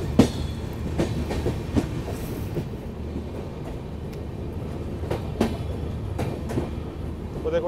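Kalka Shatabdi Express hauled by a WAP-4 locomotive, heard from inside the moving train as a steady low rumble with rhythmic clickety-clack wheel beats recurring every second or so; no talk.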